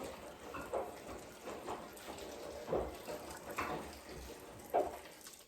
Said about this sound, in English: to just about cover it with hot water.